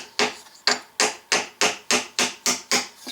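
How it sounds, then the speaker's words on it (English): A block of wood used as a hammer strikes a push pin into an aluminium can, nine sharp, evenly spaced knocks in quick succession, close and loud with no talk. "I'm going to use my block of wood as a hammer"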